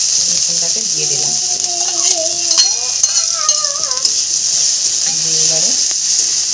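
Garlic added to frying onions in a pan makes a steady loud sizzle throughout, while a person talks over it in a few short phrases.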